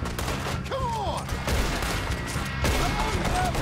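Gunfire in the video game Red Dead Redemption 2, a dense, busy mix of shots and game noise with sliding tonal effects, sustained at moderate level throughout.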